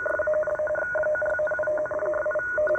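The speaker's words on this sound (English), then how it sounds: "Here's some radio teletype." A radio teletype transmission picked up on the 12 to 13 MHz shortwave band, probably U.S. Navy, heard as a steady warbling two-tone data chatter over background hiss, continuous and fairly loud.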